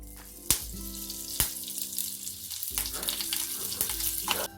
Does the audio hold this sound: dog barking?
no